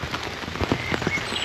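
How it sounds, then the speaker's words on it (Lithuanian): Rain patters on an umbrella carried by someone walking down near castle ruins at Ribeauvillé, a close, uneven spatter of drops with soft taps over a faint outdoor background. "Inselėjo lietus, tai skėtį turiu."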